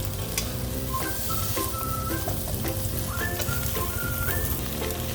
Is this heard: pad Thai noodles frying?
yes